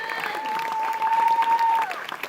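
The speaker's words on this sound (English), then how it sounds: "put your hands together" A theater audience at Universal Studios Orlando claps and cheers in a burst of applause while a sustained whistle-like tone rings over it.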